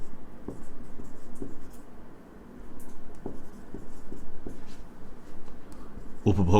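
A pen scratches out a line of handwriting on paper in steady strokes, close and clear, while someone talks over it.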